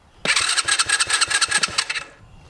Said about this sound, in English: we just hit this push button start